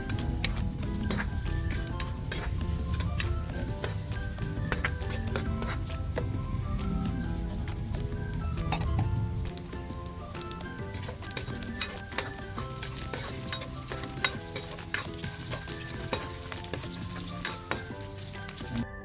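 Onion and garlic sizzle and fry steadily in a hot pan while making balbacua with beef, with occasional stirring clicks and scrapes; the frying stays loud and continuous throughout, easing slightly midway, and no one speaks.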